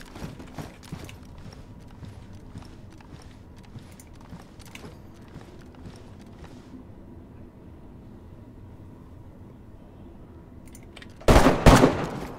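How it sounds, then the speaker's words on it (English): Gunfire in DayZ Standalone crackles in a rapid, distant-sounding burst of shots early on, then fades to quiet before a single loud, close blast near the end. "Oh, someone else is shooting."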